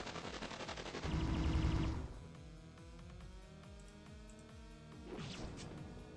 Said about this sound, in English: Tank guns.